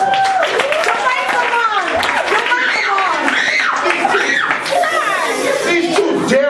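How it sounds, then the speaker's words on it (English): Audience at a street magic show at NorthLight Community Center clapping for two volunteers, a lively mix of applause and chuckling laughter, with a voice talking loudly over the crowd. "Give these guys a round of applause."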